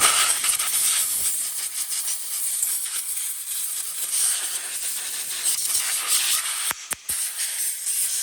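Compressed air blasts gunk off an Echo string trimmer engine on a workbench, a steady, close, broadband hiss with a few sharp clicks near the end.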